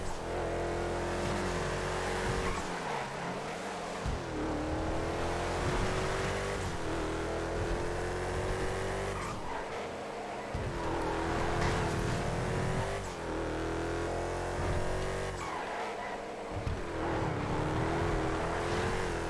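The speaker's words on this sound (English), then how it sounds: "Just listen to the engine." A race car engine in GTA Online screams through repeated upshifts, rising whines broken by brief drops in revs as it accelerates lap after lap, loud and continuous with no talk.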